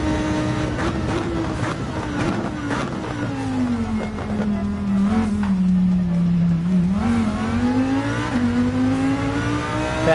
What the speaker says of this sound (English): I was pretty hard on the pedal there to do a nice little test takeoff